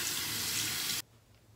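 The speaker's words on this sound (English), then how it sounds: "So it is time to wash my face off." Water runs steadily from a bathroom tap into a sink during face washing, a loud close hiss that cuts off abruptly after about a second, leaving a faint background.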